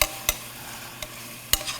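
Squash for veggie fajitas is stirred in a frying pan, giving three sharp scrapes and clatters spaced well apart over a faint, steady background with no voices.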